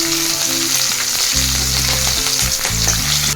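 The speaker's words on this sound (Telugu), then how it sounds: "ఆయిల్ వేడవగానే దాంట్లోకి ఆవాలు, జీలకర్ర వేసుకోవాలి. అలాగే మనం కట్ చేసి పెట్టుకున్న పచ్చిమిర్చి కూడా యాడ్ చేస్తున్నాము." Mustard seeds, cumin and chopped green chillies sizzle loudly in hot oil for sago upma, a constant crackling fry with no voices.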